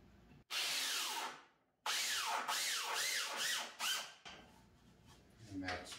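A power drill drives 2¾-inch construction screws into wood, running in a loud close burst, a pause, then a longer run with rising pitch sweeps as each screw bites and seats.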